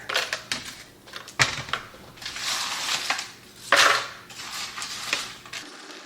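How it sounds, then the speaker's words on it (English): Dried elephant garlic rattles and clatters in a blender as it is ground into powder, with uneven bursts of crunching and grinding that rise and fall for several seconds. "So we're going to throw these in the blender."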